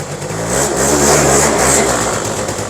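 Engine of an ETON 90 automatic ATV revving steadily up and down, close and loud, with a rough mid-pitched drone and no voices.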